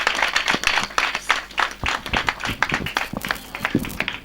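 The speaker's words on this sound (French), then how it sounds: "Voilà pourquoi nous applaudissons et que nous sommes contents de vous." A crowd in Diofior, Senegal clapping in quick, uneven bursts, close and fairly loud, with some rhythmic claps standing out through the noise.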